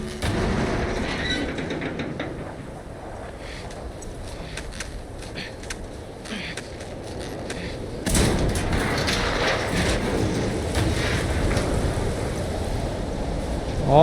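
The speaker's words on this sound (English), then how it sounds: "Storm's really picked up." Howling wind and a raging storm in The Last of Us Part II, a broad steady roar of gusts and rushing air that surges louder about halfway through, with no talk over it.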